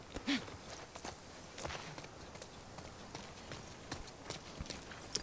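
Horse hooves clip-clop at a walk in The Last of Us Part 2, a steady run of soft, close footfalls over a faint ambient background, with a brief louder knock near the start.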